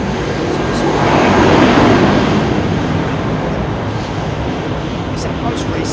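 Airbus A350 airliner at Heathrow passing with a broad engine roar that swells and then eases, fairly close, while people talk.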